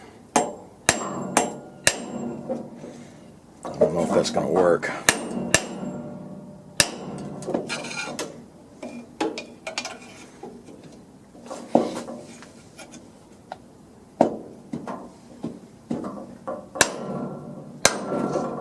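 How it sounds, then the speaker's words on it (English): Sharp metallic hammer blows ring out at irregular intervals on a Sears LT1036 lawn tractor being restored, some loud and close, with clinking and scraping between strikes as a part is pried up, and a brief spoken remark. "while I hit this with a hammer"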